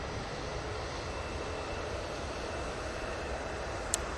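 An airliner in colourful petals livery at Manchester Airport gives off a broad, steady engine roar, loud and unbroken, heard from a distance with no clear rise or fall.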